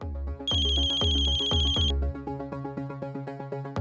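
Mobile phone ringtone from an incoming call, a loud repeating electronic melody of punchy tones with a bright high sustained layer early on, continuing steadily with no voices over it.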